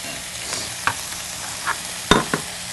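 A spoon stirs taco pie filling in a pan, soft scraping and clinking over a low steady sizzle, with a few distinct knocks against the pan.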